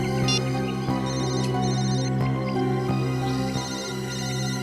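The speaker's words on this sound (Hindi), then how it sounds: "फोन फिर से बज रहा है सर।" A phone ringtone plays steadily throughout, a looping electronic melody with repeating tones, fairly loud and close, with no voices over it.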